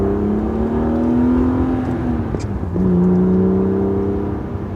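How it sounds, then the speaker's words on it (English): A BMW E36 M3 engine fitted with a Borla exhaust, revving from inside the car while driving, with a steady rising drone, a brief drop at a shift, then pulling again, loud and close. "Sounds pretty good. A little Borla exhaust in the back."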